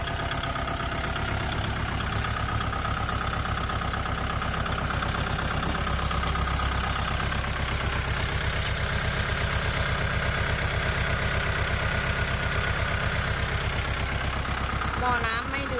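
A Kubota L5018 DT tractor, kept in original condition and fitted with a front blade, idles with a steady, loud diesel rumble and rhythmic chug that holds for the whole stretch.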